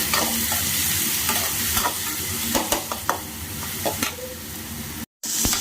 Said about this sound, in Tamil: தக்காளி வதங்கிடுச்சுங்க